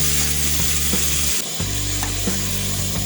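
Water goes into sizzling spicy stir-fried wild boar in a pan, a loud dense sizzle that briefly drops as the liquid lands, then resumes with ladle scrapes and knocks.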